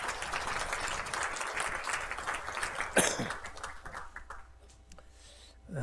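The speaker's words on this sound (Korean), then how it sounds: "박수 한번 해주시기 바랍니다." A church congregation applauds in a warm burst of clapping that fades away toward the end, with a cough or throat clearing cutting through partway.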